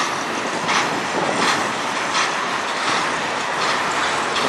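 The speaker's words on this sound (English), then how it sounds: "This is a regular daily train." A train on the Strathroy Subdivision in Ontario rolls past close by, a loud continuous roar with faint repeating clatter of wheels over rail joints.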